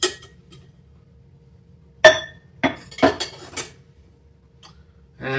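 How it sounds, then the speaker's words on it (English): Ice cubes drop into a cocktail glass in a few separate clinking clatters with quiet gaps between, close and crisp, with a faint background hum. "And we might as well just put the rest of the ice in there."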